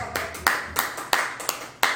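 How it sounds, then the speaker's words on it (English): A couple of audience members clapping after a stand-up comedy set: about seven sparse, uneven claps, close and distinct, with no crowd applause around them. "Two claps, man."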